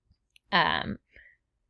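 A single mouse click on a web page link, a short sharp tap near a brief burst of voice, with quiet around it.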